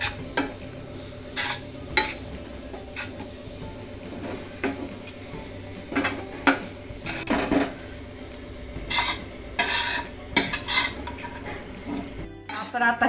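Besan being stirred into ghee in a pan for barfi: repeated scraping and clinking of a spoon against metal, close and moderately loud, in irregular bursts with no talk.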